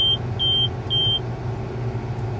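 A John Deere tractor's engine rumbles low and steady as it strains to move forward in first gear, with three short, high warning beeps early on and no talking.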